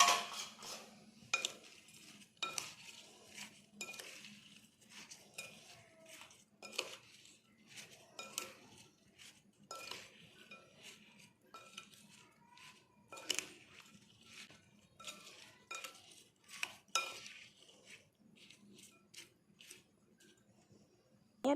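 A spoon scrapes and clinks around a bowl of mango pickle mixed with heated, cooled mustard oil, making a quiet run of irregular taps and scrapes with no talking.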